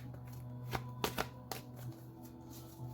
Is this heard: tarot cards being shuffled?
yes